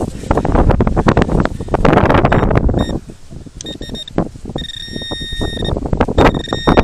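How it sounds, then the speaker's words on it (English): Wind buffets a camera microphone outdoors in a farm field, giving loud, rough rumbling gusts that ease off partway through, with faint tonal beeps and rustling in the lulls. "Trying to keep the camera out of the wind."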